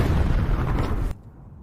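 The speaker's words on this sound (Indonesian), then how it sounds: "Tanpa diduga, sebuah ranjau meledak" A landmine explodes in a film scene: a loud, deep boom with a rumbling blast that holds for about a second, then cuts off abruptly into near silence.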